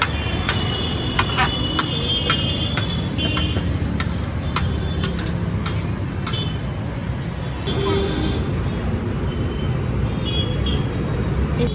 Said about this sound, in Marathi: थोडा गाड्यांचा आवाज जास्त आहे, बॅकग्राऊंड साऊंड